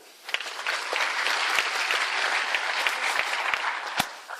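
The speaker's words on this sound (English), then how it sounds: "So give him a warm round of applause" Audience at a Microsoft Tech Days event gives a warm round of applause, steady massed clapping with a few sharp, closer claps standing out, rising quickly and holding fairly quietly at a distance.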